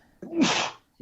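A single close, sharp sneeze bursts out after a quick intake of breath, then silence.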